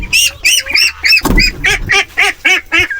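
Wild ducks let out of a large farm pen give a string of loud, close quacks and honks, about a dozen in quick rhythmic bursts with a brief scuffle of wings and movement in the middle.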